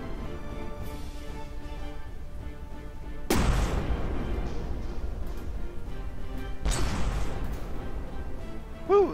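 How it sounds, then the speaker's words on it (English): Heavy naval guns firing in the From The Depths game during a fleet battle, two big booming blasts over a constant roaring rumble of battle noise. "those guns are loud"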